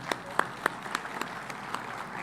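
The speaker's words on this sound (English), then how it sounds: "So a round of applause for Mr." A seminar audience at a tourism session's closing gives a thin, quiet round of applause, with a handful of distinct claps standing out over a soft, sparse patter.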